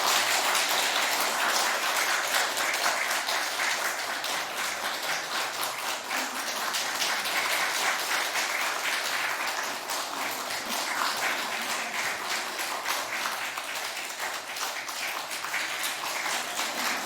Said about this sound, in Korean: 선물 드릴 때 여러분들 아무튼 아낌없는 박수 부탁드립니다